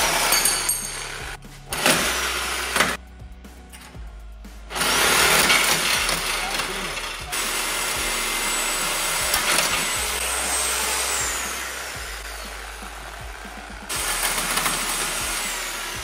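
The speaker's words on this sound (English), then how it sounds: "it's really hard to get the blade into there and cut this side of the bolt" A power saw blade cutting through a hard-to-reach bolt on a 212,000-mile Toyota Land Cruiser, loud and close, with long buzzing stretches broken by brief stops and restarts.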